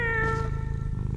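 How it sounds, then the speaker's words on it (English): A kitten gives a single clear meow, close and alone, a short rising-then-falling cry lasting about half a second before fading into quiet. "Do you want our kitten to meow for you?"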